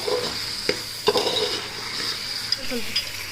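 Tomatoes sauté in a pan for chicken biryani, giving a low steady sizzle with a few quick utensil clinks and scrapes as they are stirred.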